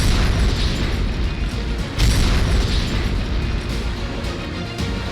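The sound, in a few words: bombs dropped by a B-52 bomber exploding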